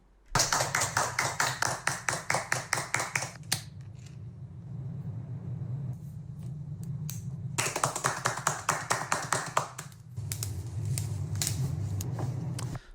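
Rhythmic hand claps, a quick run of about a dozen crisp, evenly spaced claps, a pause, then another fast burst of claps, close and clear over a low background hum.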